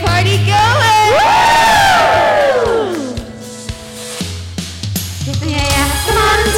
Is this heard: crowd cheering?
yes